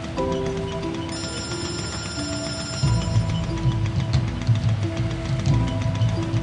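Telephone ringing during a telenovela scene, a bright repeated electronic ring tone over background music, fairly loud and continuous.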